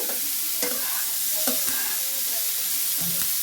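Cauliflower frying in a pan over lowered heat, a steady sizzle broken by sharp clicks and scrapes of a spatula as the pieces are turned and stirred.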